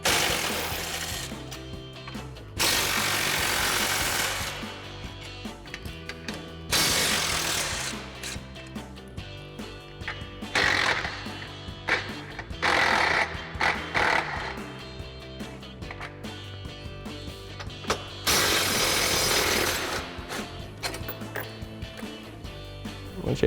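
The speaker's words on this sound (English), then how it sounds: "So we'll use our 13mm socket and remove those." A ratchet with a 13mm socket removing bumper bracket bolts on a 2021-2023 Ford F-150, heard as several bursts of fast clicking ratcheting, close and fairly loud, separated by brief quiet gaps.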